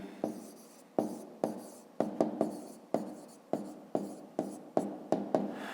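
A pen writes a formula by hand on paper in quick separate strokes, each a short scratchy scrape, about a dozen in steady rhythm, close and clear with no talk.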